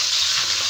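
Tilapia frying in a pan gives a steady, even hiss of sizzling oil that holds constant throughout the short moment.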